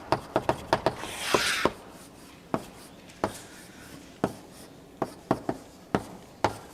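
Chalk or marker tapping and scratching on a board in an organic chemistry lecture: quick strokes in a cluster, a short scraping stretch, then evenly spaced sharp taps, close and without talk.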